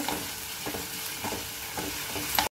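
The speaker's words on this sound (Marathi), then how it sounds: "आणि कांदा छान परतून घ्यायचा" Onions sautéing in a pan over a medium flame for Malvani chicken sukka, giving a steady close sizzle with a few soft stirring scrapes and no talking.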